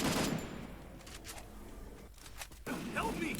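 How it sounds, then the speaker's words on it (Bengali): Rapid MP40 fire rattles in an online shooter match. Dense bursts of shots come at the start and end, with a quieter stretch between them, and a voice talks over the gunfire. "ওপি লেভেলের এম ফোরটি দিয়ে হেডশট এটাকেও এমপি ফোরটি দিয়ে চেপে চুপে মেরে দিচ্ছি"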